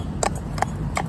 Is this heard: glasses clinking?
no